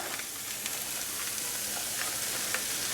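Cabbage and carrots sizzle as they are stirred into frying chicken lumpia filling, a dense nearby hiss broken by light scraping and stirring clicks, with no voices.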